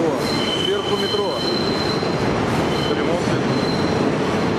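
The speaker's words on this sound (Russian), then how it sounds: "О, сверху метро." An elevated subway train at Brighton Beach, New York, rumbles past nearby, wheels squealing with high metallic tones over a steady loud roar; faint voices underneath.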